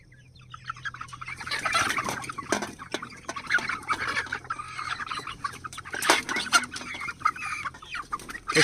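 A flock of chickens clucks and chatters continuously in a coop at moderate distance, many overlapping calls with occasional louder squawks and rustling.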